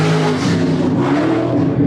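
Super modified race car powering out of turn four onto the front straight late in a heat race, its engine roaring loud and steady with a sustained high-pitched howl throughout, no voices.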